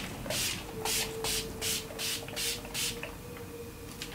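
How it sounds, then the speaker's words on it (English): Several quick, airy bursts of makeup setting spray hiss in a regular rhythm, about eight short puffs in a row, close up and fairly soft. "The last bit is to set the makeup with some setting spray."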